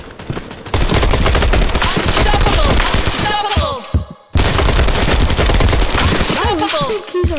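Dense, loud automatic gunfire in the Spark VR video game, rapid shots running almost without a break, with one brief drop-out midway before the firing resumes, and voices mixed in underneath.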